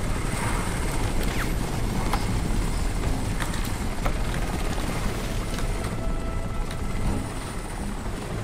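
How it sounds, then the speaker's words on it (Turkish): A helicopter in the video game Crysis flies in pursuit, giving a loud, steady rotor chop and engine roar that fills the scene with no talking. "Helikopter hala peşimizde ya, bırakmadı."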